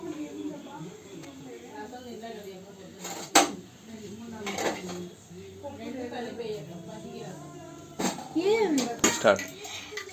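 Fried bread lifted from a pan onto a plate in a home kitchen, with metal utensils scraping and clinking against cookware in a few sharp bursts while a person talks throughout.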